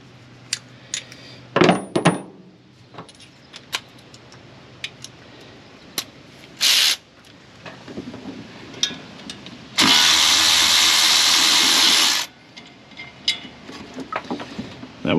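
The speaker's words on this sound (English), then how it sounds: "So we got to zip all these bolts off." A power tool zips off 7/16 header bolts during starter work on an engine, giving short sharp bursts and one long two-second rattling run, mixed with metallic clinks and taps of tools.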